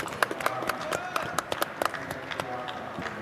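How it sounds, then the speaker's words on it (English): An audience at a tech event on identity, privacy and security applauds a prize winner, giving brisk scattered claps of moderate loudness with a faint crowd murmur under them. "Give him a round of applause"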